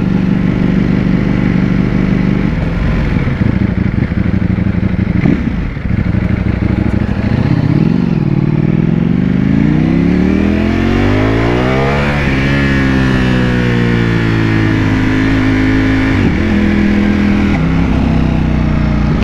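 A Ducati V4S motorcycle accelerating hard through the gears, its loud engine note rising in pitch repeatedly and dropping briefly at each quick-shifter change, heard continuously and close from the rider's position.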